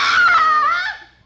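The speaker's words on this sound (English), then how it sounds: "scream that jolted me back" A woman's sharp, high scream in an audio drama, loud and close, held for about a second before trailing off quickly.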